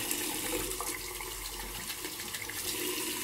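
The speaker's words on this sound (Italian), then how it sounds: "Adesso acqua calda, così vediamo anche come monta" Hot water pours steadily into a bowl during soap-making with a small amount of product, a continuous watery rush that stays fairly loud and even throughout with no talking.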